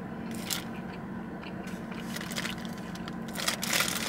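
Close, crisp bites into a bacon, egg and gouda cheese breakfast sandwich on soft, chewy bread, with a few crunchy, crackling chomps spread over a few seconds in a quiet room.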